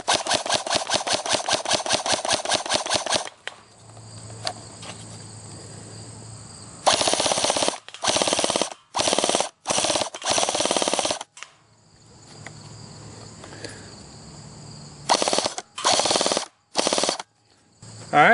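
Magpul ACR Masada PTS airsoft AEG firing outdoors on a range: a rapid full-auto burst opens, followed by several short bursts and repeated clicks with quiet pauses between, loud and close.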